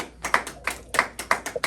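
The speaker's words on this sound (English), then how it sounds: "Let's give him a round of applause." A small audience at a press conference for a Go-Go museum and café in Washington, D.C. gives scattered, uneven applause: a handful of distinct hand claps overlapping in loose bursts, fairly close and moderately loud, with no talking.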